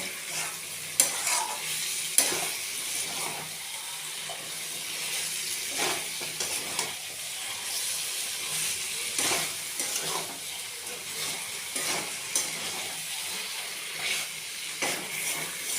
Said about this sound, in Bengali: এটাকে 10 মিনিট আমরা ভাজবো।